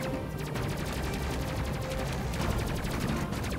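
Spaceship weapons in the Space Crew video game keep up a steady, dense barrage of rapid fire for the whole stretch, loud and continuous with no breaks.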